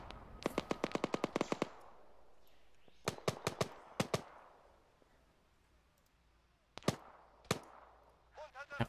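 Automatic gunfire in the video game Arma 3: a rapid, loud burst of shots, then several spaced single shots and short volleys, ending with a faint voice.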